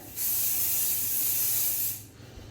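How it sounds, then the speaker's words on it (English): Hairspray hisses from an aerosol can onto sleek hair being prepared for a bun, one steady spray lasting nearly two seconds, close and fairly loud, ending abruptly in a quiet room. "before you put the bun up, I would give it a hairspray."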